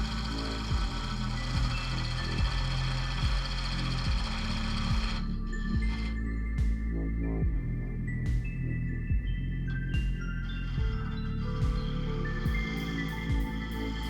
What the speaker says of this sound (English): And now I'm cutting a tenon so it'll fit in my jawed chuck.